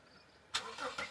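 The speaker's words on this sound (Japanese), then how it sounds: "エンジンかかった。" A car engine starts during a summer car-camping outing, a brief burst of cranking catching into a running engine, fairly quiet and close, with no talk over it.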